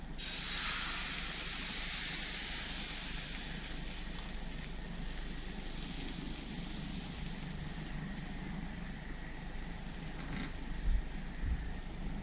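Steady soft hiss and sizzle of a poppy seed pancake frying in an oiled pan, continuous and fairly quiet, with no talking.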